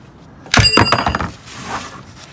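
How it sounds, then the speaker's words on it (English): A single hard mallet blow knocks a wrench to break loose the oil drain bolt on a Honda Civic, a sharp close metallic thunk with a brief clink before the ring dies away. "what I'm gonna do is just gonna knock it once, okay, and that should break open the bolt"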